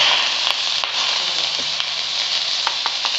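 Chopped onions frying in hot oil at the start of a pork dinuguan, a steady close sizzle with occasional stirring clicks and pops running throughout.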